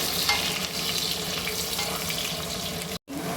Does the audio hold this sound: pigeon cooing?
no